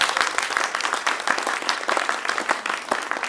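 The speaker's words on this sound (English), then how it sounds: "Let's hear a round of applause." Audience at a high school fall play applauding, a moderately quiet, steady patter of many hands clapping together at some distance.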